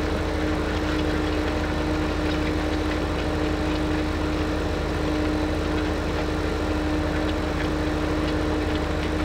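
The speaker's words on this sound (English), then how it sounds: "I think I need to speed this tractor up a little bit." Tractor engine in Farming Simulator 15 runs at a steady drone with a constant humming tone, loud and unbroken for several seconds, with no talk.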